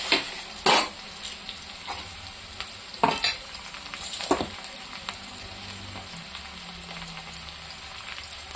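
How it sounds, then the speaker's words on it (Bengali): Onion and bay leaves fry in a pan with a steady close sizzle, broken by a few sharp clinks and scrapes of stirring. "পেঁয়াজ তেজপাতা ভাজা হয়ে গেছে"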